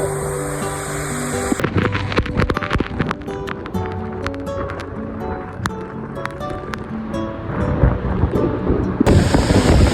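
Strong wind buffets the microphone near a large waterfall during monsoon rain, a steady loud roar with rushing water underneath, swelling toward the end and broken by sharp crackling gusts.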